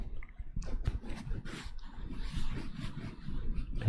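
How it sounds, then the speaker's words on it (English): Close, irregular scratchy rustling and soft thumps as a microphone's pop filter is rubbed right against the microphone, with no voice. "rubbing the filter of the mic next to the mic"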